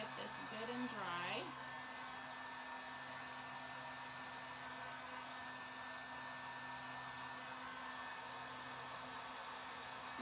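A hair dryer blows steadily over fresh chalk paint on a shabby chic spring bunny sign craft, giving a continuous, even whir that is fairly quiet throughout.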